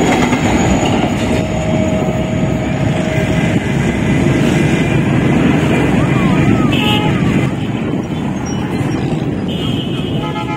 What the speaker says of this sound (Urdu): یہ پہلی ٹرین جو اپروچ کر رہی ہے 9 اپ علامہ اقبال ایکسپریس ہے